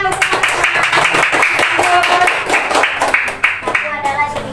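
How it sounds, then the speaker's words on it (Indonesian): Classroom of children clapping together in a brisk, rhythmic burst of applause, loud and close, with voices chattering and speaking over and around the claps. "Ya, tepuk tangan untuk"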